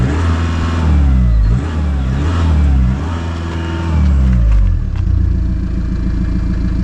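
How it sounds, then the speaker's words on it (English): Audi engine revved repeatedly against its soft limiter, a loud close exhaust note climbing and bouncing off the cutoff in several pulses, then dropping to a rough idle, with people talking. "Do you want to give it a rev? Give it a rev, yeah."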